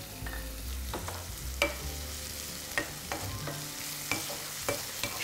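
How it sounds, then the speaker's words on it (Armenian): Onion frying in a pan with salt and ground black pepper, soft sizzle under repeated scraping stirs and light utensil clicks at an irregular pace. "շատ չենք տապակելու սոխը"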